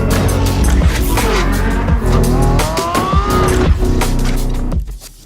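Lamborghini Revuelto with a digitally synthesized car sound, loud and close, with a revving engine, rising and falling pitch sweeps and tire squeal before it drops away at the end.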